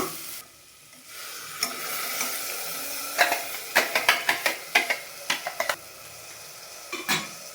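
Ground spinach paste hits frying masala in a pan, followed by a steady sizzle and a run of sharp, rhythmic scrapes and knocks as it is stirred.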